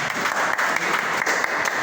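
An audience at an integrity zone development evaluation meeting claps together in a brief, dense burst of applause, close and steady for about two seconds.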